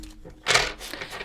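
Tarot cards shuffled by hand, giving a short close burst of papery riffling and rubbing, with quieter handling before and after.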